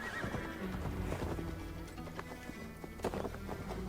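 A horse gallops with steady clip-clop hoofbeats and neighs loudly in Assassin's Creed Valhalla, the galloping rhythm continuous throughout.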